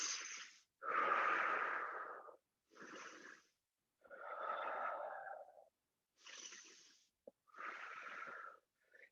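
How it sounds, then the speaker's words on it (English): Slow, audible breaths during seated chair yoga, each inhale and exhale a long airy, slightly wheezy swell, about six in a row separated by short silences, close and fairly quiet with no talking. "breathing 3 breaths"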